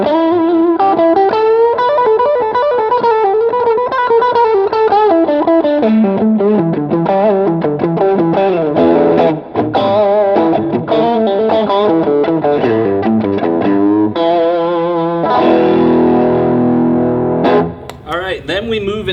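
Fender Deluxe Nashville Telecaster electric guitar played through distortion, with sustained overdriven chords and melodic lines ringing continuously and a few short breaks between phrases.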